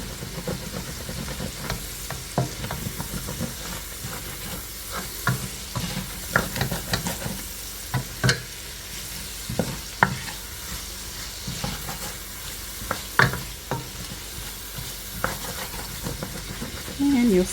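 Vegetables sauté in salted butter for chicken and dumplings, a steady sizzle broken by repeated close scrapes and clacks of a utensil against the pot, with some faint talk in the background.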